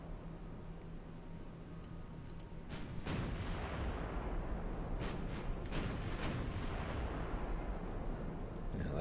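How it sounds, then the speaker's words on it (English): Warship guns fire in a naval battle in the video game Ultimate Admiral Dreadnoughts, several sharp booming shots spaced irregularly over a rising rumbling background. "So the Sachsen will actually start firing on those."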